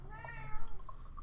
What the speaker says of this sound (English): Sorry for cat sounds.